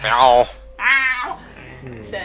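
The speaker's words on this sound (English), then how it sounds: "that was a cat that we're looking after" A cat being looked after meows loudly and insistently twice, with long drawn-out cries close to the microphone. A person's voice is heard briefly in between.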